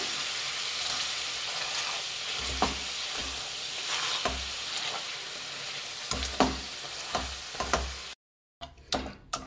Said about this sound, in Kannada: ಒಂದು ಮ್ಯಾಶರ್ ತೊಗೊಂಡು ಬಿಸಿ ಇದ್ದಾಗಲೇ ಇದನ್ನೆಲ್ಲ ಕ್ಲೀನಾಗಿ ಮ್ಯಾಶ್ ಮಾಡ್ಕೊಬೇಕಾಗತ್ತೆ